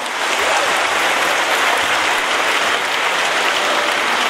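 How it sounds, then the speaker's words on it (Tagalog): A church congregation at a feast-day Mass breaks into loud, dense applause that holds steady from start to finish, filling the room like heavy rain. "pinaagi sa atong makusog nga mga palakpak"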